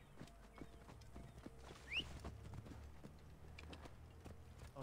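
Soft hoofbeats of a horse in the video game Assassin's Creed Origins clip-clop at a steady walking rhythm, faint and close, with a brief high squeal partway through.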